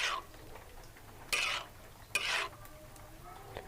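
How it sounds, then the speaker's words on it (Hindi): Chopped tomatoes are mixed into tawa-fried liver kaleji masala, with two brief scraping stirs against the pan over a faint, quiet background. "टमाटर ऐड करने के बाद अच्छे से मिक्स करेंगे"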